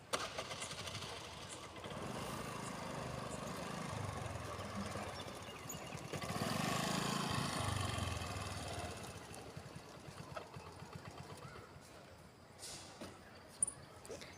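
A scooter engine runs at a steady, even throttle during a beginner's riding lesson on open ground. It makes a continuous mid-level hum that swells slightly partway through, and a voice talks over it.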